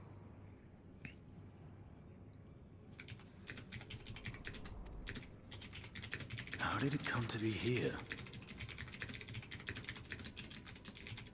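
A computer keyboard is typed on softly in a steady patter of small clicks beneath low background sound, while a voice briefly speaks over it.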